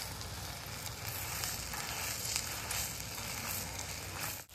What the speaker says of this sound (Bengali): যখনই তেলের মধ্যে দেবেন এইভাবে একটু জাস্ট ঘুরিয়ে নেবেন